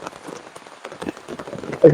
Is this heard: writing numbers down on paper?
no